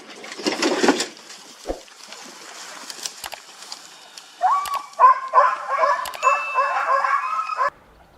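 Hunting dogs barking during a wild boar chase, a burst of repeated yips and barks at moderate distance after quieter rustling.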